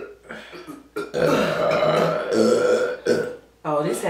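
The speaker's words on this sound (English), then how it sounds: "Oh, this has become a burping competition." Several loud, close burps during a playful burping contest at a Chinese food mukbang, the long belches separated by brief pauses, with voices talking and laughing between them.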